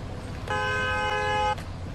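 In the Bus Simulator 21 video game, a bus horn blares once, loud and steady, for about a second over low road rumble.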